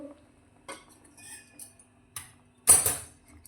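A spoon knocks and scrapes against a kadai while spices are stirred into hot water for a pointed gourd curry, giving a few sparse clinks and one louder scraping clatter near the end.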